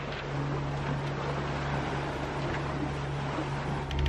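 A sailboat runs under engine power on an open-water passage to Panama, a steady low motor drone with a constant hum beneath broad wind and water rush, unbroken throughout.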